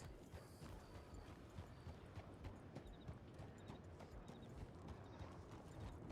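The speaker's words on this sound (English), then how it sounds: "Look at the trot! So pretty!" Rapid, steady clip-clop of a horse's hooves trotting, fairly close, with continuous outdoor background noise beneath.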